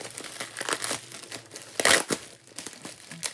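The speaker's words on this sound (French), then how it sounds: "on va voir le scotch. Parce qu'il y a du scotch partout. Oh, ça fait du bruit." Adhesive tape pulled off parcel packaging from a bead shop makes a run of crackly ripping and crinkling bursts, close and uneven, with a louder tear near the middle.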